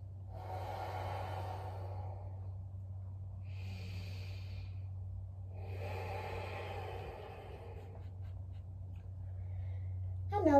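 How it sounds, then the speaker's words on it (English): A person takes slow, deep breaths during a stretching routine, with long airy inhales and exhales spaced a few seconds apart over a low steady hum, close and fairly quiet. "Long and deep inhales and exhales."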